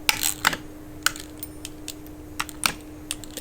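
A cutter scoring sheets of olive-oil sourdough cracker dough, heard as a run of crisp, irregular little clicks and taps, close up, with no speech.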